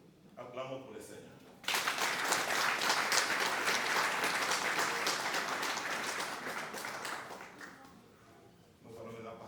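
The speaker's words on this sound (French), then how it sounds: "Acclamons pour le Seigneur." A church congregation at a wedding service bursts into loud, sustained applause that slowly fades, with brief speech heard before it begins and again as it dies away.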